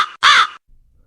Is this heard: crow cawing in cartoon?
yes